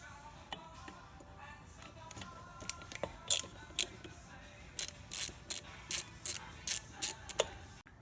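Lug nuts being unbolted with a ratcheting tool on a Honda ATC 200M three-wheeler during a teardown: a string of sharp, close mechanical clicks and ratchet bursts, sparse at first and then coming in quick regular runs near the end.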